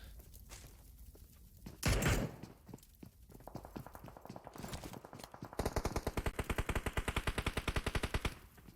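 Automatic gunfire in PUBG Mobile during a pro league finals match: a loud burst near two seconds, then rapid rhythmic volleys of shots running steadily through the second half.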